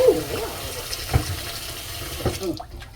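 Water runs steadily from a tap into a bowl while a vinegar soak is prepared in a kitchen, a continuous close splashing rush with a few faint clinks.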